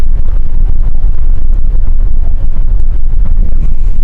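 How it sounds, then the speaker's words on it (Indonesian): Engine room of a large gas tanker ship, loud dense roar of heavy machinery running steadily throughout with a constant low rumble and no pauses. "Dan posisi sudah di kamar mesin, di engine control room, dan beginilah engine room control gua."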